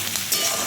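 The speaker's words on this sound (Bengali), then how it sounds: "পুজো করে এখন এই যে আলু ভাজছি" Potatoes frying in a pan for an egg curry, a dense, close crackling sizzle that runs continuously and evenly with no voices over it.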